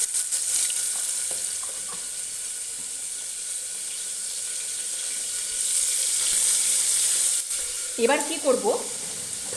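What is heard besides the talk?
shrimp marinated in salt and turmeric sizzling in a pan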